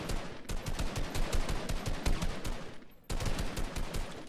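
Gunfire in the video game Fortnite comes as loud, rapid automatic bursts of evenly spaced shots, broken by a brief pause before another burst, with no voices.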